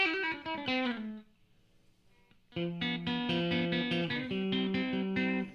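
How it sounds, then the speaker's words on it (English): A Reville MV Maverick electric guitar with P90 pickups played through slapback echo set so long and roomy it sounds bathtub-like, with a short strummed phrase, a brief gap, then a longer run of ringing notes. "Almost a bathtub sound, actually, more than a slapback."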